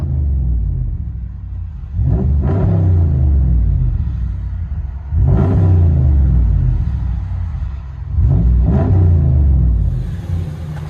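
A 2017 Ram 1500 with the 5.7-liter HEMI V8 and a Flowmaster Outlaw exhaust, heard from inside the cab: a deep, loud rumbling idle broken by three sharp revs that swell and fall back, with no talking.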